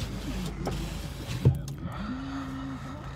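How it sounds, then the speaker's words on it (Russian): Electric power window motor in a Renault Logan, a steady whirring hum lasting under a second, preceded by a thump or click, heard close inside the cabin with low background noise. "И электростеклоподъемники."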